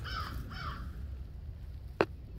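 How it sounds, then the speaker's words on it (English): Two harsh caws from a crow near a backyard chicken coop, the first slightly longer, clear and fairly close over steady low background rumble, followed by a brief sharp knock. "Oh, it's okay, guys. It's Stoopy Crow."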